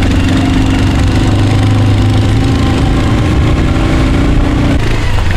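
Motorcycle engine running steadily on a hill road tour near Nainital, a loud, close, continuous low throb with a slight rhythmic knock, no voices over it.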